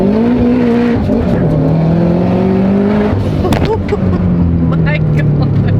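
A Mitsubishi Evo 10 accelerating hard, its engine note climbing steadily through the gears, loud and close, with people talking over it.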